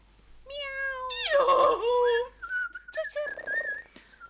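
A person imitates a cat's meow with a drawn-out, wavering whistle-like voice, followed by a few shorter mewing sounds.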